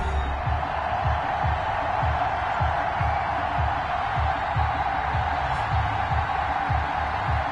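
Stadium crowd noise in an NFL video game before a Baltimore Ravens versus New Orleans Saints matchup: a constant, moderately loud roar of cheering with a rhythmic low thumping underneath, no voices on top.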